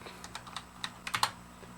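Quick clicks come from a computer keyboard as someone types a short search, with about a dozen light taps in an uneven burst that clusters near the end, close and fairly quiet over a faint steady hum.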